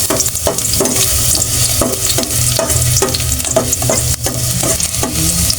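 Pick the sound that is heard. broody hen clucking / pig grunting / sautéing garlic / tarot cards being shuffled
sautéing garlic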